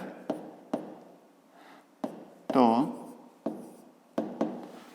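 Pen writing in a notebook, with short close scratches and taps at irregular intervals and one longer squeaky stroke, heard alone without talk.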